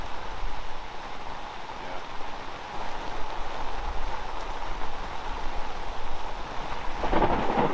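Rumbling thunder with steady heavy rain at the onset of a hurricane, a continuous dense wash of rainfall with deep low rolls beneath and a louder burst of rain spatter near the end, no voices.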